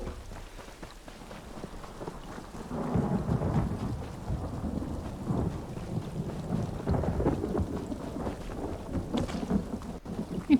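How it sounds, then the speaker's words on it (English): Rolling thunder rumbles with steady rain in The Elder Scrolls Online, a low continuous roar that swells after a couple of seconds and holds loud to the end, with no voices over it. "Sun and thunder at the same time"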